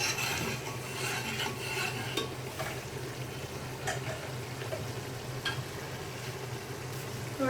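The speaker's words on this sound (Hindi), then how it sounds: "अब इसको अच्छी तरह भूनें 5 मिनट के लिए।" Tikka biryani masala frying in a pan, a soft continuous sizzle with scraping stirring strokes, close and steady, no voices.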